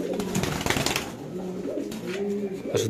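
Ringed fancy pigeons coo in low, soft, repeated phrases close by, with steady background noise and brief rustling throughout.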